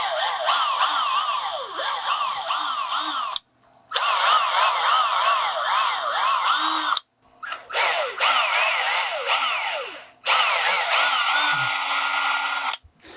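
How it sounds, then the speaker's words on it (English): Power drill boring holes at the frets of a guitar fretboard in a workshop, four long whining bursts of several seconds each, separated by brief pauses, loud and close. "I've got nice holes drilled at my frets"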